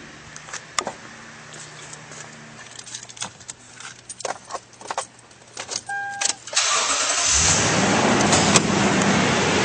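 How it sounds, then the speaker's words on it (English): A 2012 Toyota Tundra pickup truck cranks and its engine catches, settling into a steady, loud idle after a few seconds of scattered clicks and interior shuffling. "And now we'll start up this vehicle."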